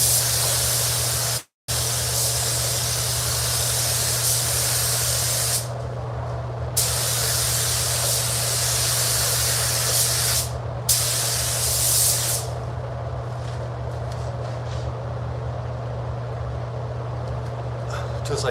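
A spray gun hisses steadily while applying sealer to a gray metallic Honda hood, a loud continuous spray with a few brief pauses and one short cutoff near the start.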